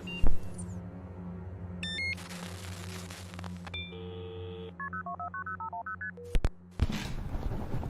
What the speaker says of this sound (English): I need to call Sam